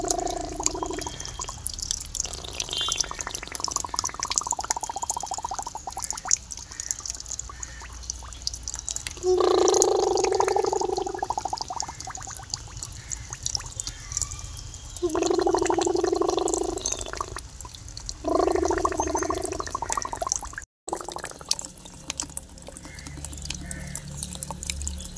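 Someone blows a toy steamer boat across a basin of water, producing bursts of watery bubbling and splashing that come and go in several separate spells over a background of faint room noise.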